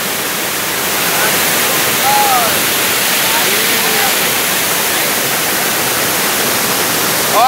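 Water rushes steadily over the Santana dam in Jaguaribe, Ceará, a loud, continuous broadband roar filling the whole clip, with faint chirps and a few distant voices faintly above it.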